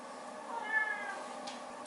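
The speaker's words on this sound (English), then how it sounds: "Bo Biscuit the cat is harassing me" A cat named Bo Biscuit gives a single quiet meow indoors in a kitchen during dinner preparation, short and soft against low room noise.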